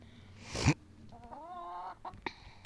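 Hens on a small farm cluck and call in short, close bursts, with one loud squawk early and then a drawn-out warbling cackle, with no talking.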